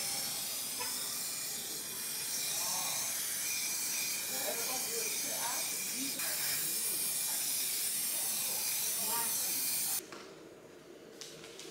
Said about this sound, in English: So I'm going to spray it outside.